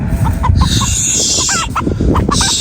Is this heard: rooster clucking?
yes